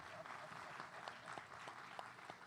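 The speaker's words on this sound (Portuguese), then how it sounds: "uma salva de palmas para ele," Applause from the audience at a technology and new-business conference session. It sounds faint and steady, a soft wash of many hands clapping at a distance for a couple of seconds.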